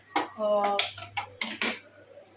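A cooking pot is set down on a home kitchen stove to heat while preparing chicken biryani, giving several sharp metallic clanks and scrapes in a quick, irregular cluster, close and fairly loud, with no talk over it.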